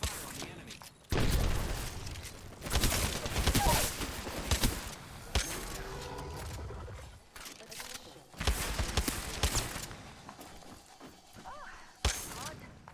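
Bursts of video game gunfire sound repeatedly, with loud, clattering volleys of rapid shots separated by brief lulls and a final sharp blast near the end.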